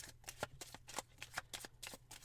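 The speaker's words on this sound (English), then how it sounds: "To set up, take the 9 estates, give them a shuffle" The nine estate cards of the board game Count of The Nine Estates being shuffled by hand, a soft, continuous riffling and flicking of cards close up, quiet, with no voices.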